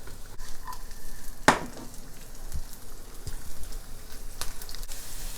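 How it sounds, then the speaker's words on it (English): Steady sizzling of onion frying in hot oil, with a sharp clatter near the start and a few faint scrapes, no voices. "It's okay if it doesn't sizzle right away."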